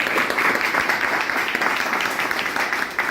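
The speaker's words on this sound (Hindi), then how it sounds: "जोरदार तालियां सबके लिए।" Loud, dense audience applause at a talk, a continuous wash of many hands clapping together at an even level for a few seconds before easing slightly.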